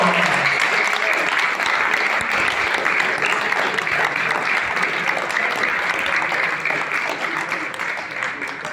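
Loud, sustained applause from the audience at a 2024 Imo schools debate after the judges' decision, a thick continuous wash of clapping from start to finish, easing slightly at the very end.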